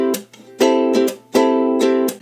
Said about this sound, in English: you're going to strum down and then up and then slap